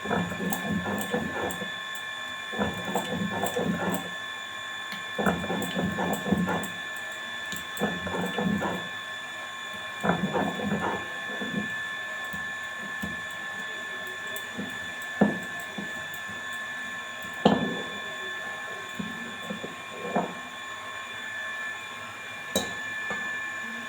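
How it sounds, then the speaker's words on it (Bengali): A household water pump for drawing water runs loudly nearby, a steady mechanical hum and whine with rattling, ratcheting clatter and scattered sharp knocks laid over it throughout, and no talking. "আমাদের জল তোলা মেশিন চলছিল আর কি, পাম্প চলছিল, ওই জন্য আওয়াজ হচ্ছিল খুব।"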